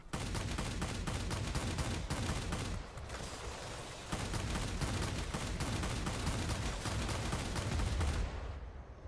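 Twin aircraft cannons on a German Messerschmitt Bf.109Z Zwilling blaze in World of Warplanes, long rapid bursts of heavy gunfire with a short lull before firing resumes and then cuts off.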